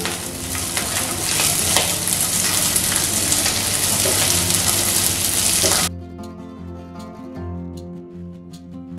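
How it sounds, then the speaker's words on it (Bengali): Coconut, cashews and raisins fry in a pan on a gas stove, a dense, steady sizzle with stirring that runs for about six seconds, then cuts off, leaving a quieter, thinner sound with faint clinks. "নারকেল, কাজু বাদাম ও কিশমিশ লাল লাল করে ভেজে নিয়েছি।"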